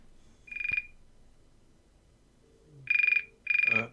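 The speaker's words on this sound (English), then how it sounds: "on the wall still ringing." A wall-mounted telephone in a white-tiled briefing room rings in short electronic bursts, one brief trill followed after a pause by two longer ones close together, clear and fairly near with no talk.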